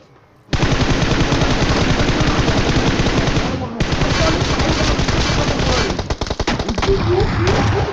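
Rapid automatic gunfire in the BGMI / PUBG battle royale game, loud and continuous bursts of machine-gun shots dominating throughout, with a brief pause midway before firing resumes alongside scattered game effects.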